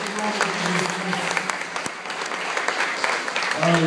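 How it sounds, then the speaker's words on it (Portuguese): Church congregation applauding during a worship service, a dense continuous wash of many hands clapping at steady loudness, with faint voices beneath. "Você pode aplaudir o Senhor."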